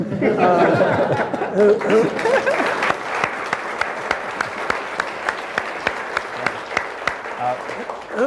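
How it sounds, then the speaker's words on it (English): An audience at a 1987 PARC Forum lecture applauds for the crew on the bridge of the Starship Enterprise, clapping building over light chatter and chuckles, then settling into steady rhythmic clapping with distinct sharp claps. "give a big round of applause to the folks up there on the bridge of the Starship Enterprise"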